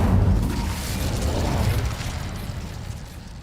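In a Harry Potter video game, an Incendio fire spell erupts with a loud whooshing burst of flame that rumbles and then slowly fades, no talk.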